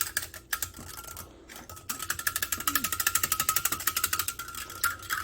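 A small whisk scrapes and clicks rapidly against a slow cooker holding garlic parmesan chicken stew, a quick rhythmic rattle that pauses briefly, then speeds up close by.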